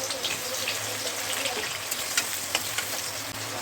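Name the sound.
chopped onions frying for biryani birista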